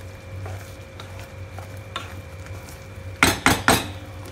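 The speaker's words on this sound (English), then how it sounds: "Mix it again." Fried paneer stirred in a simmering masala in a metal pan, with faint background clatter, then three sharp, close spoon-on-pan scrapes in quick succession near the end.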